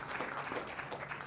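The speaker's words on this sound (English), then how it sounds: "Let's give him a big round of applause for their online streaming work and video work." Faint, steady clapping from an audience at a ringman competition and junior and amateur showcase, a dense patter of many hands lasting about a second with no voices over it.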